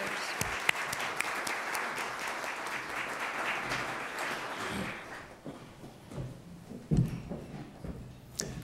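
An audience applauds to welcome a speaker at an event on developmental disabilities. The clapping is steady and fairly distant in a large room, then thins into scattered claps and small noises.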